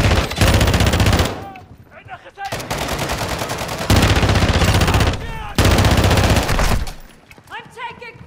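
Video game gunfire in three long, loud machine-gun bursts, each lasting over a second, separated by short gaps where voices speak, with close, dense automatic fire dominating.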